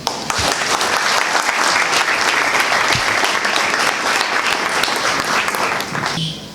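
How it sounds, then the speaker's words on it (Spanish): An audience at a Peruvian academic event in Pueblo Libre bursts into sustained, loud applause, dense clapping filling the room from start to finish before fading slightly at the end. "a quien pedimos fuertes aplausos"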